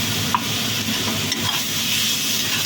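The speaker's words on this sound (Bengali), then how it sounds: "এবার এটাও ভাজবো।" A paste of onion, ginger, garlic and tomato fries in a pan with only a little oil, making a steady hiss with faint stirring clicks, close and without talk.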